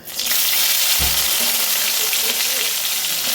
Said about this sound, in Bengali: এর মধ্যে দিয়ে দেবো আমি আমার কেটে রাখা যে সবজিগুলো ছিল ধুয়ে রেখেছিলাম সেই শিম বেগুন আর আলু